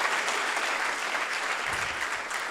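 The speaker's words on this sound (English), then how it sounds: "Let's have a big round of applause just to start practicing this morning." A large audience at a startup demo day in a hall gives a full, sustained round of applause, steady and fairly loud, with dense clapping that holds throughout.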